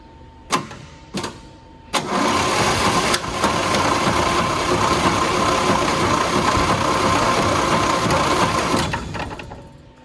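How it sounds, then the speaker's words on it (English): An Austin-Healey engine with lubricant added turns over on the starter: two brief cranks, then a sustained loud churning crank of about seven seconds that stops abruptly, close by, with no talk. "Okay, we know the engine turns over."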